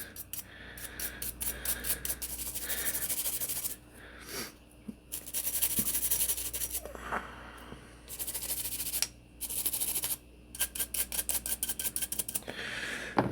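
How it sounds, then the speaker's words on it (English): A soft bristle brush scrubs the parts of a Glock 48 Gen 5 pistol in quick, close, bursty strokes that start and stop several times, with short pauses between the scratchy scrubbing runs. "we'll grab our soft bristle brush and just start going at the rest."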